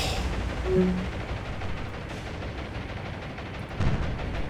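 Distant naval anti-aircraft gunfire rumbles during an airstrike in the War on the Sea video game, dull booming thuds over a steady low rumble.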